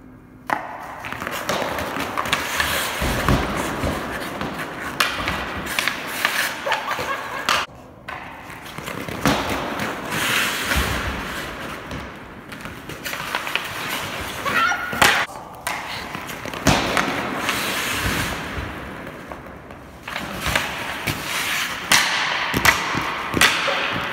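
Ice hockey drill on a rink: pucks are shot in and sticks slap and thud repeatedly, with skates scraping across the ice, loud and busy throughout.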